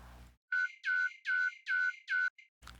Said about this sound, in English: This little beep noise.